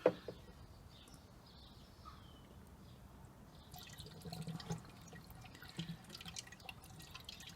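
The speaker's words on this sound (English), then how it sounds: "I'm just going to go ahead and add part 1 of the Holts Rad Flush." Holts Rad Flush is poured into the radiator of a Mini John Cooper Works, giving a faint, soft trickle and drip of liquid that grows slightly busier partway through, heard close with no talking.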